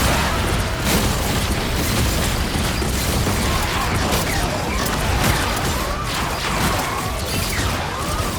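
Rockets fire and explode in the Marvel Rivals video game, a loud, dense barrage of booms, crashes and mechanical clatter with whooshing streaks running continuously throughout.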